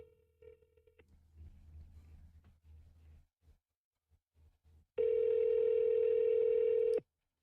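Telephone call placed over a live stream: faint clicks and brief dial tones first, then a loud, steady ringback or dial tone holding for about two seconds before cutting off.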